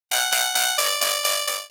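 A high-pitched synth oscillator layer an octave up for a bass house track, bright buzzy tones pulsing in a rhythmic run of about seven even notes, loud and alone.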